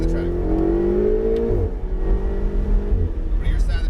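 A Ferrari 488 GTB engine revs up loud and close on a racetrack, rising in pitch, then drops and keeps droning under a voice.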